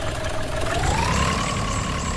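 A tractor engine in a farming video game rumbles steadily with a rising whine as it accelerates, a constant mechanical drone with no voices over it.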